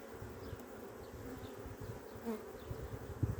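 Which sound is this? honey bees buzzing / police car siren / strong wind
honey bees buzzing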